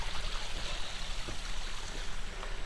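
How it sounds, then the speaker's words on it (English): Rainwater runs steadily down a boat ramp at a riverside ferry landing, a continuous close trickling wash with no talk. "There's water running down the ramp here to the cross right here."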